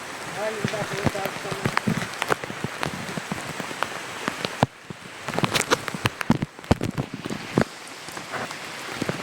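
Light, fine rain falls in a forest and patters steadily on surfaces, with scattered sharper drips against a soft wash. A voice is faintly audible partway through.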